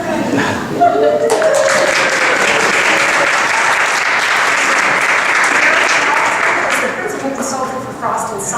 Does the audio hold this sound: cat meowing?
no